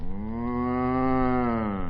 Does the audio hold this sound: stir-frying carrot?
no